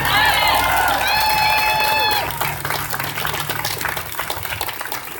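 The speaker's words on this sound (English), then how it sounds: "guys, clap for them." Applause from an audience at a gun control rally for the teenage speakers. Voices and cheers carry over it at first, then the clapping settles into a steady, dense patter.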